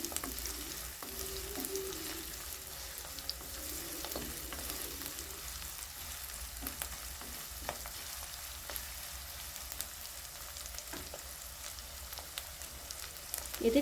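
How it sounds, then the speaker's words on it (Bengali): Onions frying lightly in a pan for a village-style chicken leg curry, a steady soft sizzle that carries through without a break, with occasional faint scrapes and no voices. "পেঁয়াজ, এটাকে একটু হালকা করে ভেজে নেব।"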